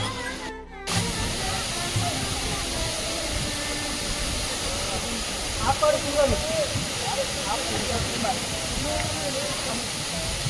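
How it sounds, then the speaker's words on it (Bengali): Steady broadband rush of a waterfall beside the Kedarnath trek, a loud continuous wash of falling water that runs unbroken throughout, with faint voices and a brief muffled knock near the start. "সুন্দর একটি ঝর্ণা"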